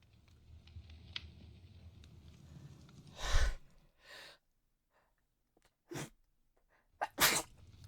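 A loud sneeze bursts out in a quiet room, followed by a softer breath and two more sharp sneezing sounds near the end.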